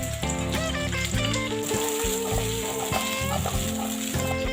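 Carrots, garlic, onion and paprika frying in butter in a pan: a steady sizzle and crackle throughout, mixed with ringing tonal sounds.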